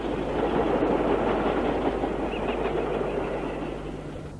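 A British Rail Class 26 diesel locomotive, number 26003, rumbles past at close range, a steady loud roar of engine and wheels that eases slightly toward the end.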